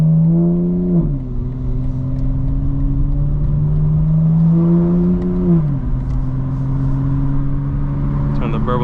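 A modified 2025 BMW M4 Competition xDrive drones steadily under load while driving, its engine pitch stepping down at two gear changes, with faint crackles near the end.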